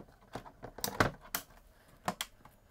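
An electrostatic cutting mat is slid into a Silhouette Cameo 5 cutter, giving several close, sharp plastic clicks and taps at irregular intervals, quiet and without voices.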